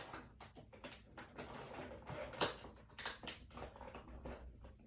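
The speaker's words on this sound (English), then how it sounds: "First, we're going to cut open the card back." Cardboard card back of a Marvel Legends Infinity Gauntlet toy package being cut open, a run of close, dry scratchy snips and crackles with one sharper crack midway, no talking.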